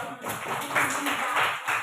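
Brief scattered clapping breaks out in a classroom, a few hands patting unevenly in short bursts, fairly close and modest in volume.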